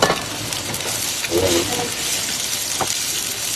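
Ginger, garlic and plenty of onion for tinola sautéing in a pan, giving a continuous close frying hiss with occasional stirring knocks, with a brief voice partway through.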